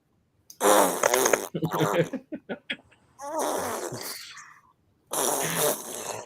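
A person blows wet, sputtering raspberries with the mouth, imitating farts: a few long buzzing blasts and a string of short pops, loud and close, with gaps of silence between them.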